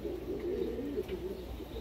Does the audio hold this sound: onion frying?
no